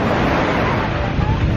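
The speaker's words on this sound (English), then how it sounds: "Here comes the waves." Waves break on a sandy Mediterranean beach in Barcelona, Spain, as a steady, loud wash of surf mixed with wind buffeting close to the microphone.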